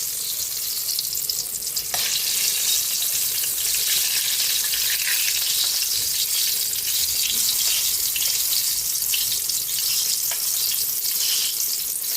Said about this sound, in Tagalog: Piprito na tayo ng Gigi, galunggong